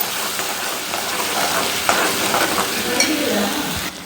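Onion, ground tomato and dried red chili paste sizzling and being stirred in a pan, a steady frying hiss with scraping spoon strokes close up and no talk.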